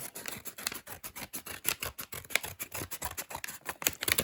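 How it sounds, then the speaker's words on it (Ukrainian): Rapid, rhythmic snips of scissors slicing through plastic packaging, a quick series of crisp cuts heard up close. "Поїхали розрізати."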